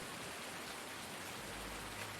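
Rain falling in a farming video game, a steady, soft hiss of raindrops on surfaces continuing evenly throughout, with a low rumble joining partway through and no voices.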